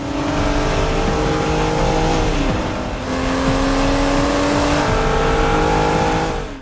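A blue 2014 Aston Martin Rapide S drives hard, its engine droning loud and close with rising revs and gear shifts throughout, no voices over it.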